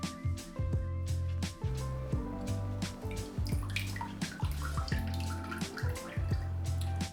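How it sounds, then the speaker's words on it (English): Water is drawn up into a small mini bubbler and drains back out in bubbling, gurgling pulses and drips, heard close up with a steady rhythmic flow. "My favorite way to get water into this thing is to just suck it up through the bottom and then let it drain out."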